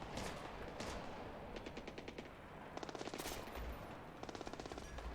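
Bursts of rapid machine gun fire in a video game's realistic mode, several short rattling volleys separated by brief pauses, moderately loud against a steady background hiss, with no one talking.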